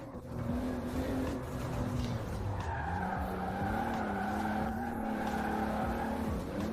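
Tire skid from a Toyota Supra drifting in Forza Horizon 4, tuned to 1600 HP, a loud continuous squeal over engine roar with shifting pitch, sustained throughout without talk.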